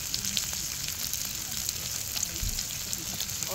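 Assorted Korean beef tripe sizzles on a grill at a campsite, a steady, close hiss of frying that runs through the whole moment with light crackles and no talk over it.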